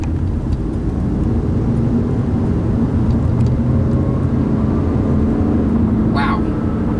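The engine of a 2012 Volvo S60 T5 hums from inside the moving car, a steady rumble with a faint rising whine building as it speeds up.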